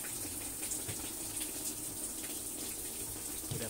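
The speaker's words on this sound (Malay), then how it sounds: "Tuangkan minyak ke dalam kuali" A steady, soft hiss of cooking oil being poured into a wok, continuous and fairly quiet, with no talking.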